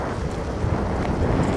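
Strong headwind buffets and roars steadily while cycling, with a dense low rumble like gusts hitting a microphone while moving, during rain in East Kazakhstan.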